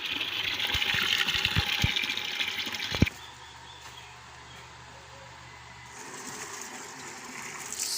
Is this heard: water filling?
yes